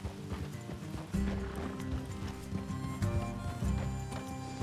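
Horses' hooves clip-clop steadily in Red Dead Redemption 2, a dense rhythmic patter over a low rumbling game soundtrack with an occasional whinny, no talk.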